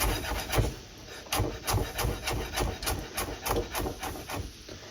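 Knife finely chopping food on a wooden board, quick rhythmic taps and scrapes repeating closely in an uneven stream, near and fairly quiet.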